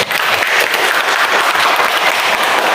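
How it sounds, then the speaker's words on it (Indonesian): Pupils in a primary school classroom clap for a classmate, a dense, loud burst of applause close by filling the short stretch without a break. "Tepuk tangan untuk Nadia."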